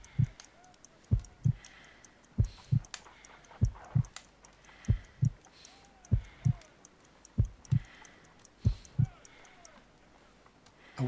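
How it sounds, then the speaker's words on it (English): A heartbeat in a Sherlock Holmes video game thumps in steady paired low beats, about one pair per second, repeating throughout with faint ticking above. "I need to concentrate and count the heartbeats"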